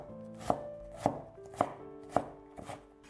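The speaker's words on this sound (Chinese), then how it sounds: "再改刀切成细丝， 最后切成小丁。" A kitchen knife dices carrot on a cutting board with five sharp, evenly spaced chops, close and clear in a quiet room with no voices.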